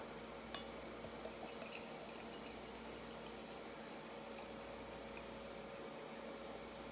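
Imperial stout beer pours steadily into a glass with a soft, continuous splashing and fizz, quiet and close, no voices.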